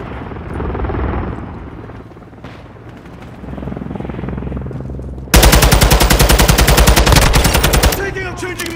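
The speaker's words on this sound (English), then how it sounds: "Hostile Overwatch Helo in the area." Call of Duty: Modern Warfare II combat, a hostile helicopter's low rotor drone with scattered shots, then a sudden loud sustained burst of rapid machine-gun fire for several seconds before tapering off.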